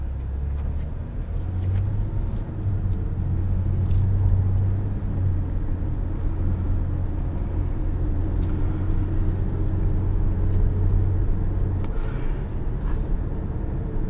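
A 2006 Lexus RX330 driving on the road, heard from inside the cabin as a steady low engine and tyre rumble with a faint hum, continuous and even throughout.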